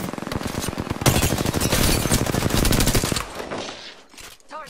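Rapid automatic gunfire in the video game Apex Legends, dense loud bursts of shots in quick succession that thin out toward the end, with no talk over them.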